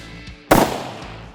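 A single sharp rifle shot while zeroing a scope, loud and close, with a short decaying echo after the blast.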